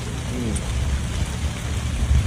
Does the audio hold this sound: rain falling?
yes